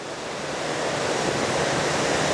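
Sea waves along the Sri Lankan coast, a steady broadband wash of surf that swells slightly and holds constant throughout, with no voices.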